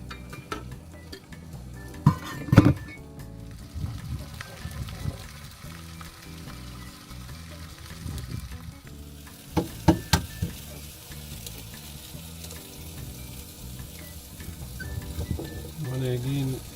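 An egg fries in a pan outdoors on a camping trek in the Flinders Ranges, giving a steady low sizzle with scattered sharp clacks of a utensil and background wind.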